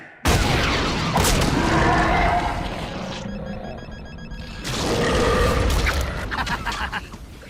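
Cartoon smart bombs fire and explode in a loud, roaring barrage of blasts and rumbling booms that swells, dips briefly, then surges again, close and dense.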